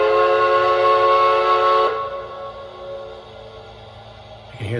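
A model Shay steam locomotive's whistle from a TCS WOW sound decoder sounds one sustained, chord-like blast that cuts off and leaves a long fading reverb tail, with a soft chuffing beat underneath and a brief click at the end.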